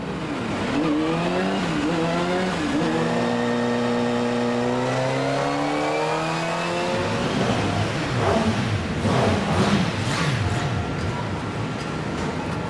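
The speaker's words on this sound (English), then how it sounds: "They fire up the engine for the first time, letting it warm up" A Kawasaki motorcycle engine fires up and runs on a factory power-test stand, revving with rising and falling pitch, loud and close, with the engine note growing rougher and more broadband toward the end.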